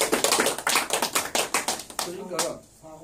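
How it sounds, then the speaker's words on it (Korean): Audience clapping in a talk on cosmic energy, heard as a brief burst of about a dozen sharp, fairly close claps in quick succession that thin out and stop after two seconds, with a voice beginning underneath near the end. "요건 조금 이해가시면 한번 박수 쳐도 돼요"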